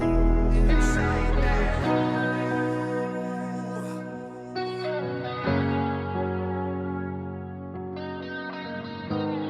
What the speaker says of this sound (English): he's singing kind of that echo sound